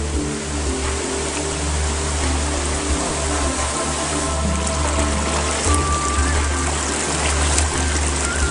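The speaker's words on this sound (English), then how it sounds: "The hot water spring is coming up. I built a dam around it." Geothermal hot spring water at about 200 degrees Fahrenheit pours over a small built dam, a steady close rushing and trickling with a low constant rumble underneath.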